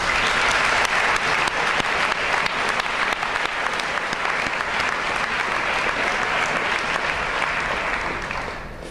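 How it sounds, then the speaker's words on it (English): A graduation audience at a school valedictorian address applauds the teachers, a full, sustained round of clapping from a large crowd that holds steady for several seconds before starting to fade. "please join me and recognize our teachers with a round of applause"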